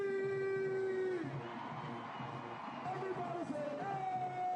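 A stadium crowd at the Boombox Classic, Jackson State versus Southern University, shouts and screams together in a loud swell of voices, mixed with whoops and a sustained yelled note.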